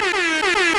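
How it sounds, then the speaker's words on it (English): Loud air horn blast held steady for just under a second, a bright, buzzing blare with stacked harmonics and a slight wobble in pitch, standing alone with no talk over it. "air horn real quick, Marlon."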